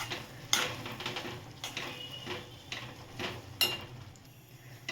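A spoon clinks and scrapes through a mango pickle spice mix in a pan, with several sharp metallic taps spread across a quiet, faintly sizzling background.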